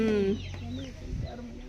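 A chicken clucks briefly near the start, followed by a low, muffled voice and faint background noise.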